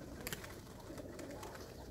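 Domestic pigeons, including white Baku tumblers, cooing softly in a loft, a steady low murmuring coo carried under broadband outdoor noise, with a few faint higher clicks and rustles.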